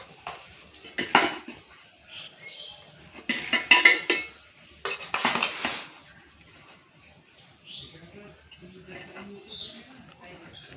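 Cooked rice goes into a pot of chicken biryani layered with bay leaves. Several loud clattering bursts of a metal spoon against the pot are followed by quieter scraping, close by and without talk.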